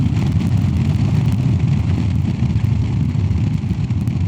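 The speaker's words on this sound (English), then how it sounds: "Even when I'm at 60 kilometers and I'm in 5th gear and I push the throttle, it goes." A Royal Enfield Classic 350 motorcycle, fitted with a FuelX Lite and DNA air filter, runs steadily in fifth gear near 60 km/h, its engine and road noise a loud, continuous drone with no talk.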